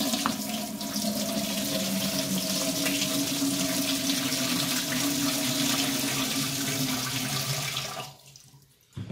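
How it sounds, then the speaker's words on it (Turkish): Water pours steadily out of plastic drums of curing green olives, a close, continuous rushing splash that tapers and cuts off near the end. "içerisindeki suyunu süzüyoruz."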